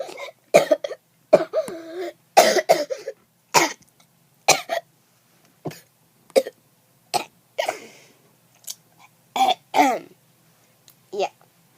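A child with a bad cough coughs and clears the throat repeatedly, a dozen or so sharp, close bursts spread across the span with short quiet gaps between them.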